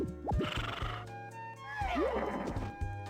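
A horse in the farming video game Harvest Moon Magical Melody neighs with a rising, shrill whinny, one call early and a louder, clearer one near the middle, close and prominent over the game's background music.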